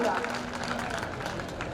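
Audience members at a district-level community talent award ceremony applaud a young girl, with dense, brisk clapping heard together with a voice speaking.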